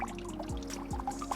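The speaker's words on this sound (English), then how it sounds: "So the water comes through" Water pours and trickles through a recirculating gold prospecting sluice with drop pockets, a steady close wash with a low pump hum underneath.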